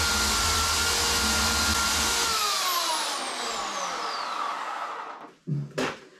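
Chainsaw making its first cut into a wood block being carved into a lighthouse, a loud steady high whine that winds down and fades, followed by a couple of short bursts.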